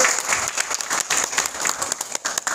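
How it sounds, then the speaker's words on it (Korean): Audience applause fills a hall at a Korean political school launch event and talk concert, steady dense clapping from a crowd that stays loud and continuous throughout, with no voices over it. "다시 한번 환영의 박수 부탁드리겠습니다"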